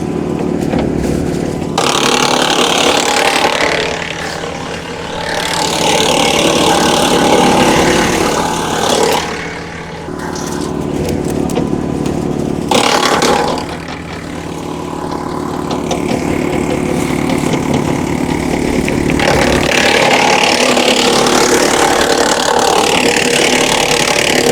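Woodland Mills WC68 wood chipper driven by a compact tractor's PTO at 540 RPM, chewing through fed branches: a loud continuous mechanical roar that dips and surges as the limbs are pulled in.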